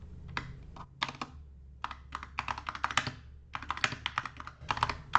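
Fingers tap rapidly on a computer keyboard in quick irregular bursts of crisp clicks, close to the microphone, with brief pauses between runs and no talking.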